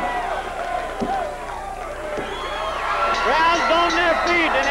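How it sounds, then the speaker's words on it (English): A wrestling crowd in Houston cheers and whoops after a big move in the ring, the roar building and growing louder toward the end while a commentator talks over it. "And listen to this crowd."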